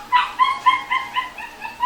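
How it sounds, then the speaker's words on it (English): A dog barking and yipping outdoors after a storm, about eight quick, high-pitched calls in a fairly even rhythm, moderately close, with no speech. "if you can hear the dog calling out, it's okay, I'll deal with it later"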